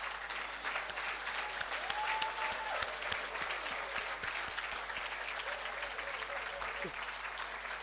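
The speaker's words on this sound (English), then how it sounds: "give him a big round of applause" Audience at a vice chancellor's excellence awards gives the vice chancellor a sustained round of applause, steady and fairly faint with a low hum beneath and murmuring voices woven through.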